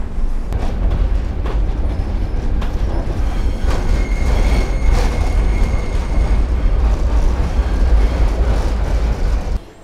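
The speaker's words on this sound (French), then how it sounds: "Profitons de ce magnifique bruit de MF88 quand même." A Paris Métro MF88 train rumbles steadily from inside a car, with a loud continuous roar, clattering wheels and a faint high whine.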